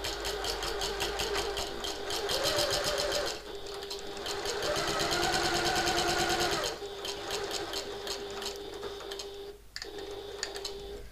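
A sewing machine back stitches a handbag seam, its needle running in fast even bursts with short pauses where the stitching direction reverses, close and clear with no talk over it.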